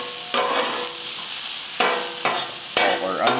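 Onions sizzle steadily on a hot griddle with salt added, a broad bright hiss broken by a few louder bursts of scraping and stirring, close and alone with no talk.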